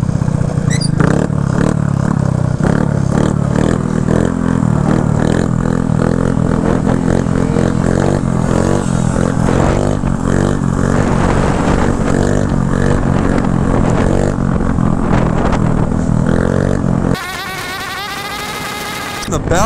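A 150cc GY6 stunt scooter engine buzzes loud and close with the throttle held, a steady raspy drone with rattling clatter, cutting to a different noisy burst near the end.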